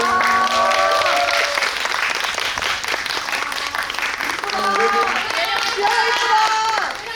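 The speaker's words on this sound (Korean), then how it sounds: "나가실 때도 큰 박수 보내주세요" A cinema audience at a guest visit for the film Ghost Train at CGV Yongsan gives sustained, dense applause for several seconds, with a voice or music tones faintly threading through the clapping.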